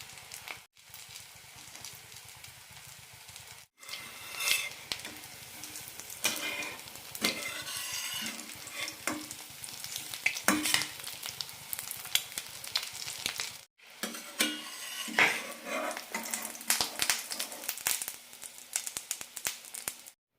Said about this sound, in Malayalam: മീഡിയം ഫ്ലെയിമിലിട്ട് വറുത്തെടുക്കാം